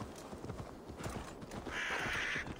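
Horse hooves from Assassin's Creed Valhalla on PlayStation 5: a quick, faint run of clip-clop footfalls, steady and fairly close, with a brief hissing rise near the end and no speech over it.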